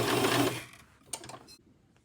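A serger overlocks cashmere sweater fabric for fingerless gloves. A short burst of dense, whirring stitching stops abruptly, followed by faint clicks and a brief mechanical rattle.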